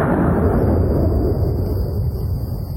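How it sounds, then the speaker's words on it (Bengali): Loud, sustained rumbling thunder strike, a heavy low roar that fills the whole moment and slowly fades, used as a dramatic storm effect in a horror drama. "ওর ঘুম ভাঙল বাজ পড়ার শব্দে।"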